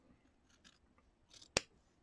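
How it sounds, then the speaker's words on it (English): Small scissors snip quilt binding fabric in one crisp, close cut after faint rustling of cloth. "I'm just going to take my little scissors and I'm going to snip this off."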